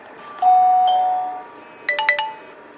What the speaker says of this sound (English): now I'm going to press the doorbell and we'll see how long it takes